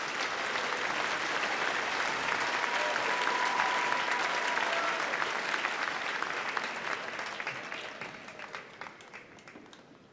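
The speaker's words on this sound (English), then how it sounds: "Please join me in a round of applause in recognition of the special level of accomplishment of these graduates" Sustained applause from a commencement audience honoring graduates at a university ceremony, a dense wash of many hands clapping that holds steady and then gradually fades toward the end.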